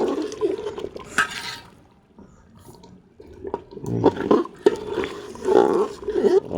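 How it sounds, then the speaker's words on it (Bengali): A ladle stirs a bhog offering in an undersized cooking pot, giving irregular scraping and clattering strokes against the metal with a soft bubbling undertone, close and moderately loud. "চলুন একটু নাড়িয়ে দেবো।"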